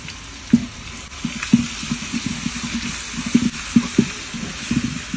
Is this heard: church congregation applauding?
no